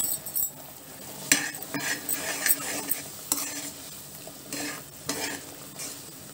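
Spoon stirring masala and jaggery into tamarind pulihora rice in a pan, with repeated scraping and clinking strokes over a soft sizzle, close and fairly loud, no talk.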